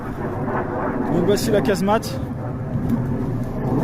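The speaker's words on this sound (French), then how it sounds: "Il y a un avion qui passe" A low, rumbling drone of an airplane overhead runs throughout, heard at a French First World War casemate, with someone speaking briefly in French over it.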